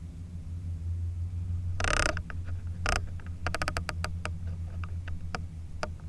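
Crisp clicks from the locking turret of a Gunnr Odin 1-10 riflescope being dialed six clicks right, a run of sharp, evenly spaced ticks close up, with a couple of louder creaks and rubbing handling noises just before.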